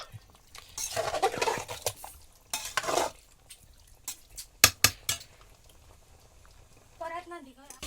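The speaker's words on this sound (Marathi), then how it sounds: "तर आता नीट परतून घेऊया आणि दहा मिनिट आपण शिजत ठेवूया" Konkani-style prawn masala being stirred and sautéed in a pan, with soft scraping stirs, a few sharp utensil clinks against the metal, and a voice talking briefly near the end.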